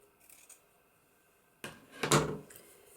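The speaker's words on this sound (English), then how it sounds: "Actually that's a join there, so I'm just going to cut that piece off." Scissors cutting off a piece of natural-coloured trim for a journal page, a short close snip-and-crunch after a quiet start, followed by faint handling sounds.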